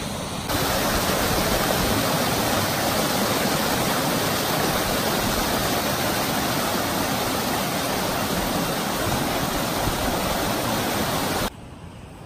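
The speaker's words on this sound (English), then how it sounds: "Crossing right at the top of the waterfall up there." A waterfall on a branch of Heather Creek on Mt. Hood roars as a dense, steady broadband rush, close and loud, continuous throughout and dropping off sharply at the very end.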